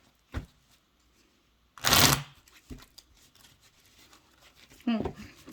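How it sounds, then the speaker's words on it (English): A brisk burst of tarot cards being shuffled close by, with a few soft taps and rustles before and after. "Okay, then I will begin to shuffle."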